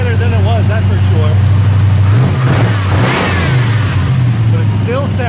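A 1993 Chevy K1500 pickup's engine runs steadily through a new exhaust, a loud low rumble with a slight rev swell midway, while someone talks over it.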